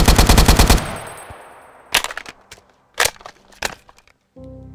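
An AK rifle fires in a Minecraft Bedrock mod video game. A loud rapid automatic burst comes first, then several sharp single shots and short bursts separated by pauses.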